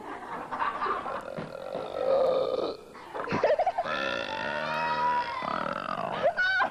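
A long, loud, drawn-out burp with a rough, gurgling tone, followed by a second burp, close to the listener with no talking.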